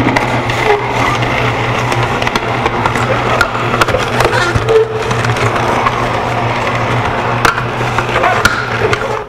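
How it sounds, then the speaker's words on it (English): An electric juicer grinds and crushes apples, a loud, continuous rough whirring with scraping texture that runs steadily throughout without pause. "let's juice up some apples."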